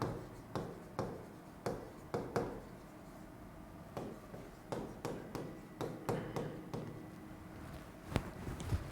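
Chalk or marker writing on a classroom board during a physics lesson, with irregular short taps and strokes spaced a second or so apart, close but faint, with no speech.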